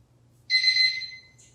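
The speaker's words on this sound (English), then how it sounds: "That was our timer going off, letting us know that it's time to switch sides." A timer alarm goes off during a restorative yoga session, a single bright electronic chime that rings for about half a second and fades, followed by a short softer tone, against a quiet room.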